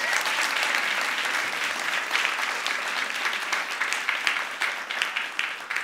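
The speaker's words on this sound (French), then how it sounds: "on peut applaudir" Studio audience applause at a French-language talk show, a dense, steady roar of many hands clapping that holds for several seconds, then thins into looser, more separate claps near the end.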